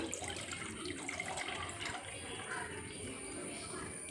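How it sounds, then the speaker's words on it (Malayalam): Custard milk being poured into a bowl, a steady trickling, splashing liquid stream heard close up and fairly quiet, continuous throughout with no talking. "നമ്മുടെ കസ്റ്റേർഡ് മിൽക്ക് ഇവിടെ റെഡി ആയിട്ടുണ്ട് നമുക്കിത് വെള്ളിലേക്ക് ഒഴിച്ചു കൊടുക്കാം"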